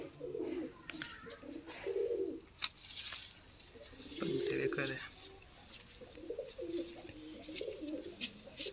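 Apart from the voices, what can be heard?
Sialkoti pigeons cooing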